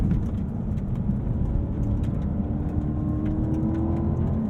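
Inside a Cadillac CT5-V Blackwing rear-drive sports sedan with a supercharged, hand-built 668-horsepower V8, a steady deep engine drone and road rumble hold at an even level while driving.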